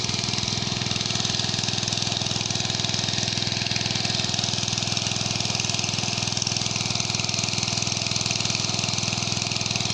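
A small engine-driven water pump runs steadily while pumping water out of a fish pond, a constant close mechanical drone with even engine pulsing throughout and no break.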